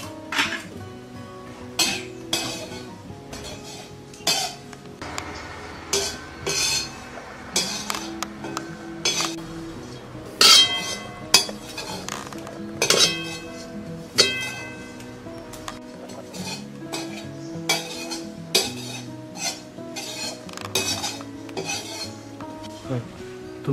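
A spoon repeatedly scrapes and clinks against a pan as two cups of grated dry coconut roast over low heat for laddoos, an irregular series of close metallic knocks and scrapes with a soft background sizzle.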